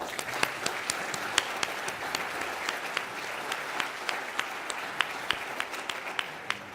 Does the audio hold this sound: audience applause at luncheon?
yes